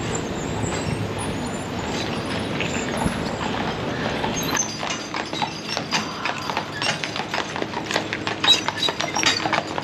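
Horses clip-clop along the street in the main shopping area of Mackinac Island town near the ferry dock, hooves tapping in a steady uneven rhythm at close-to-moderate distance amid light street ambience.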